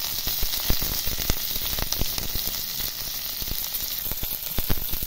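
Black cumin, dried chillies and chopped onion sizzle in hot oil for a tempering, a steady loud frying hiss with sharp crackles and pops scattered throughout, no voices.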